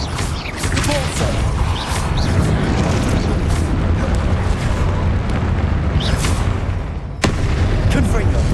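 Repulsor spell cast in the video game Hogwarts Legacy, a dense, continuous booming blast of magical force amid ongoing combat effects, loud and close, with a brief dip before a fresh burst near the end.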